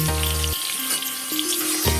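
Eggplant fritters sizzle in hot oil in a pan, a loud, steady frying hiss running through the whole stretch with a few faint tonal hums underneath.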